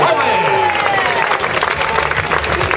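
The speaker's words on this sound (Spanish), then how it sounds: "Palmas, palmas, con ritmo" A roadside crowd at a Vuelta a España cycling stage in Lleida claps along, loud and dense, with a voice calling out over the clapping and a whistle-like tone near the start.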